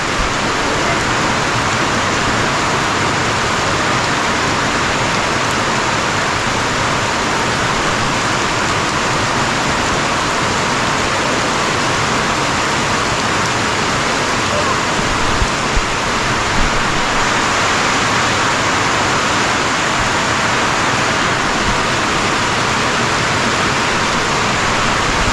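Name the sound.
flowing water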